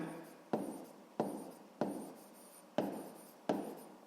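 A pen writing on paper while working a sixth-grade math exercise, a quiet close scratch in six short strokes, each starting with a sharp onset and then trailing off.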